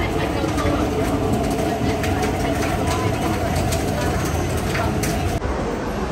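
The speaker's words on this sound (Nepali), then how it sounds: "अब चाहिँ हामी ट्रेन चढेर सात तीन जान लाग्यो" A passenger train ride in Hong Kong, with a steady loud rumble of the carriage running on the rails throughout and voices in the background.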